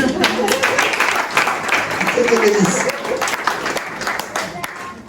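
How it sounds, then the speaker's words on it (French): Church congregation at a Sunday service applauding, dense clapping that swells and fades over several seconds, mixed with voices and cheers from the crowd. "tu mérites les acclamations"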